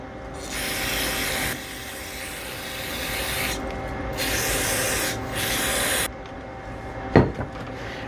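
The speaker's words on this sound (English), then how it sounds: "See how with this carb cleaner, you can just push it a little bit and you can determine your own flow." Aerosol carburetor cleaner hisses out in several sprays of varying length while a storm-damaged generator is being repaired, close and fairly steady over a faint background hum, followed by a short knock.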